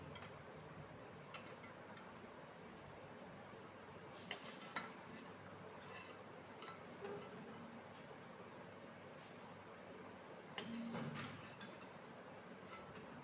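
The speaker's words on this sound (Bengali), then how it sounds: "জাস্ট একটুখানি উনুনে নাড়ানো চাড়ানো আর কি" Meat being stirred in a kadai on the stove, a faint steady sizzle with occasional sharp clinks and scrapes of a spoon against the pan, no voices.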